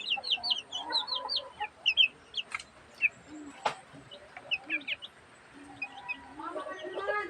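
Newly hatched chicks cheep in high, rapid peeps after their mother hen has been taken out, with scattered clucking close by and a person talking over them throughout.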